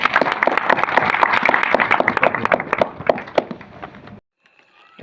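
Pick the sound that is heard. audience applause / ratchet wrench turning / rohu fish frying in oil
audience applause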